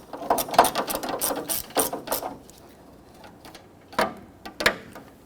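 Ratchet tightening the radiator mounting bolts on a 2006-2010 Hummer H3 with the 3.7L engine, heard as bursts of rapid close clicking, a run of strokes early on, a pause, then two short clicking bursts near the end.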